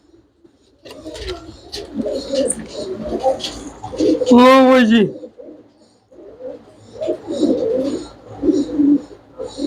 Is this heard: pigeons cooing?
yes